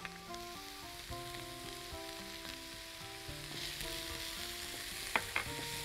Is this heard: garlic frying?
yes